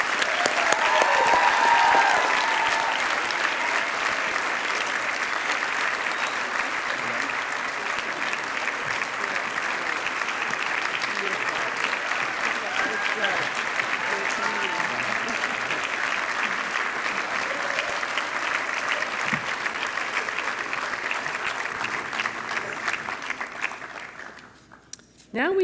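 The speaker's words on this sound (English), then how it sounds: "Let's give them all a round of applause." Audience applauding at a baccalaureate ceremony, sustained steady clapping from a large crowd in a hall that fades out near the end.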